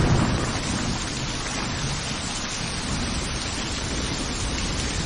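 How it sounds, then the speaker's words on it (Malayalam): Heavy rain pours down steadily at a roadside bus stop, a dense, continuous roar of drops hitting surfaces that stays loud and unbroken throughout, with no voices. "അതിവിടെ നല്ല മഴ, ഒന്നും കേൾക്കുന്നില്ല"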